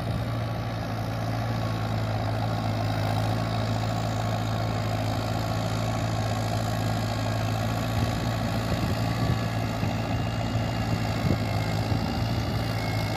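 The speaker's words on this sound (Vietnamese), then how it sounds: "SD3000 đấu đầu động cơ máy gạt đập liên hợp" A Shibaura SD3000 engine fitted to a rice combine harvester runs at a steady drone with a low rumble, continuous and close throughout, with no speech.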